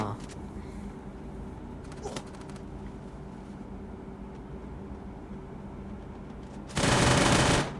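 Gunfire in the mobile battle game Free Fire: scattered shots crackle under steady game noise, then a loud, dense burst of automatic fire closes the clip.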